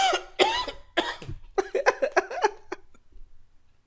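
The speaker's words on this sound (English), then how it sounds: "My throat is dry. I feel a cough." A close burst of harsh coughing, several sharp coughs in quick succession, settling into a few rougher throaty coughs before fading to quiet.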